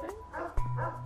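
A dog gives a short bark or two, close by but fairly quiet, in a documentary segment about dangerous dogs such as pit bulls.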